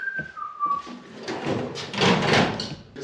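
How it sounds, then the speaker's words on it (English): A short whistled tone is followed by a metallic knock and rattle on a toolbox during a car audio install in a Dodge truck, with clattering and shuffling close by. "I whistled and then I hit the toolbox and it went in tune"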